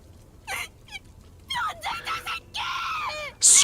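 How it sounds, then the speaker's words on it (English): Screaming and shrieking voices in a dramatized cartoon scene, several harsh strained bursts in quick succession, some close and loud, ending with a sharp loud cry. "Screaming noises."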